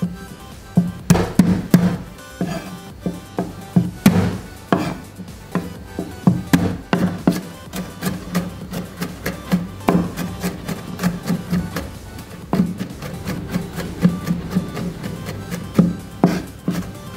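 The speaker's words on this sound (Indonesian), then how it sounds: "Bawang putih kita cincang halus." Garlic being finely minced with a knife on a board, a fast run of close, loud wooden chops and taps in uneven bursts, with brief pauses between flurries.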